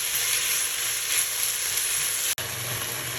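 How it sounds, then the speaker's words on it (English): Garlic and vegetables sauté in a pan as a vegetable stuffed peppers filling is prepared, giving a steady, close sizzle that runs throughout with one brief cut near the end. "Adding the garlic as well, and we saute for a little bit."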